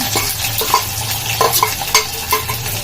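Green chillies frying in oil in a pan with a steady sizzle, broken by several sharp scrapes and clinks of a spatula or spoon stirring; no talking.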